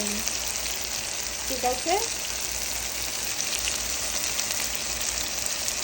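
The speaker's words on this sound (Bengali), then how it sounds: "আজকে আমি বেগুন দিয়ে শুটকি ভাজি করতেছি" Dried fish and brinjal fry in a pan with a dense, continuous sizzle throughout, and someone briefly speaks near the start.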